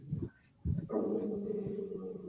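A dog lets out a couple of short, close barks followed by a drawn-out whimpering whine, at moderate loudness.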